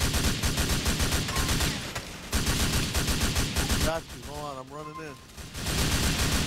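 Rapid automatic gunfire in a shooting video game during a clan battle, dense loud bursts filling most of the clip, with a brief lull where a voice speaks.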